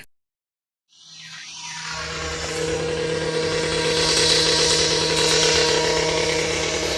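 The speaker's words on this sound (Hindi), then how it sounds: "आजकल ये हमारी रोड पर ना सामने ही कंस्ट्रक्शन का काम चल रहा है" Road construction work outside a home in Germany starts after a moment of silence and grows into a loud, continuous mechanical roar like a power saw or engine, holding steady and slightly building toward the end.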